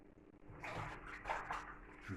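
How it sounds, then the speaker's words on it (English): Tap water runs steadily while hands are washed at home during cooking, a soft continuous hiss and splash that swells slightly midway, with no talking. "Quick wash of the hands."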